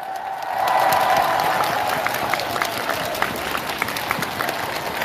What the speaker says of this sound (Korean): 잘 보이시면 박수 한번 보내주세요